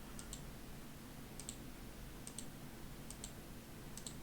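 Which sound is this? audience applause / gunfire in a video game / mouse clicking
mouse clicking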